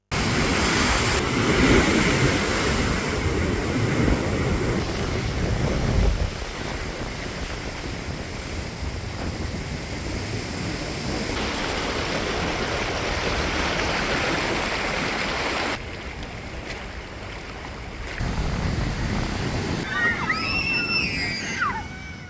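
Rough sea surging along a flooded coastline lined with houses, with a continuous loud roar of waves and sloshing water close by, dipping briefly before swelling again.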